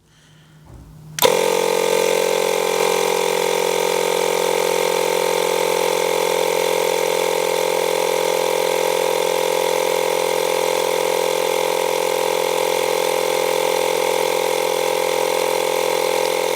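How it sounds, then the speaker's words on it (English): A Makita DMP180Z cordless air compressor starts abruptly and then runs at a steady, loud mechanical drone with a rapid buzzing pulse while it inflates a car tyre. The sound is close and continues unchanged to the end, with no speech. "So all you do is hold this trigger down and it'll blow the tyre up."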